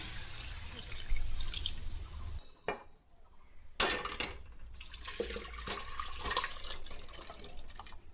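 Hot water poured into a cooking pot of low-oil mutton curry, a loud splashing pour that breaks off, then resumes with bubbling and a few utensil clinks nearby.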